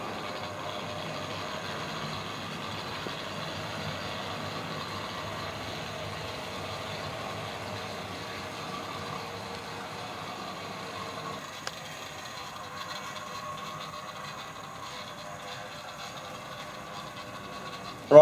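Tri-ang 3MT model locomotive running slowly on a track, a faint, steady low motor whir and rumble with slight rattling, quiet and continuous, with no voices.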